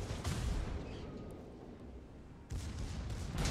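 Secondary guns of a German battleship, the Kurfürst, firing in World of Warships: a burst of blasts and rumble, a quieter stretch of lingering boom, then another burst of gunfire near the end.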